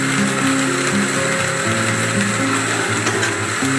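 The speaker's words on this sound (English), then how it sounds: "you want to keep blending until that's nice and pureed" Close and loud, a blender runs continuously, purees pitted dates into a dairy-free shake, its motor pitch shifting and grinding as chunks churn, with no voices over it.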